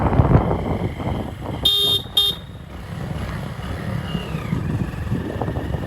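Engine rumble and wind buffeting from a motorcycle moving along a tea garden road between hills near Siliguri, interrupted by two short horn toots early on.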